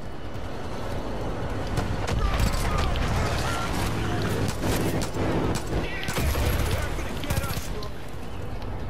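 Rapid gunfire and explosions in the Far Cry 5 video game crackle loudly and continuously, with bursts layered over a busy, cluttered mix of game sounds and a voice talking throughout.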